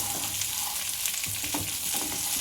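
Food for tandoori frying in a pan, a loud close sizzle and crackle with scattered clinks and stirring sounds, and no one speaking.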